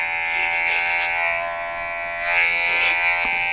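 Electric hair clippers cut a short taper at the back of the neck, a steady close buzzing hum that surges and dips as the blade moves through the hair, with no voices.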